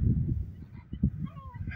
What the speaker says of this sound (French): Toujours des oiseaux, hein.